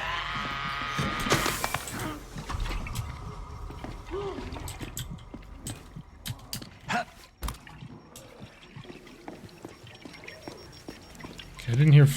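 Liquid poured from a pitcher in The Outlast Trials video game: a short splashy pour near the start, followed by scattered game clicks and thuds.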